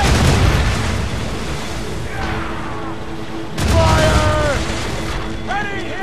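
Ship cannon fire in Assassin's Creed Rogue, heavy booming blasts at the start and again midway, rumbling under creaking and voices, with shouted words between the volleys.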